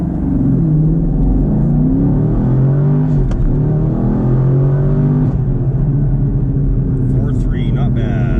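A Chevrolet Camaro SS 1LE launches hard from a standstill toward 60 mph, its V8 roaring loud and close as it pulls up through the gears, with a person speaking over the engine.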